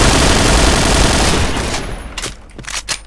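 Gunfire in the Point Blank online shooter. A loud wash of noise fades into a few sharp, separate shots near the end, spaced irregularly and fairly close.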